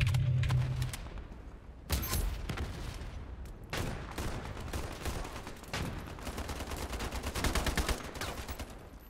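AUG assault rifle fire in the Ironsight video game: several loud close bursts of rapid shots with short pauses between, sharp cracks in quick rhythm, no talking.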